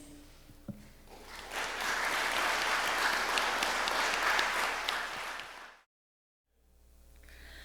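An alumni association awards ceremony audience bursts into full, steady applause that holds for several seconds, then cuts off abruptly into silence before faintly resuming.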